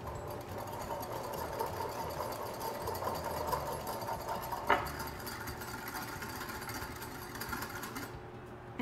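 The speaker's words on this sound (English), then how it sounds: "So we're gonna whisk that together." Homemade Greek salad dressing with onion powder being whisked in a bowl, making a faint, rapid, steady rhythmic clicking with a single louder knock partway through.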